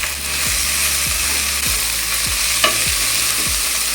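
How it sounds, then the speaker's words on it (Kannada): Sprouts sizzling in hot oil with fenugreek leaves, a steady loud frying hiss broken by regular scrapes of a spatula stirring the pan roughly every half second. "1-2 ನಿಮಿಷ ಎಣ್ಣೆಯಲ್ಲಿ ಹುರ್ಕೊಂಡಿದ್ದೀನಿ ಕಾಳನ್ನ"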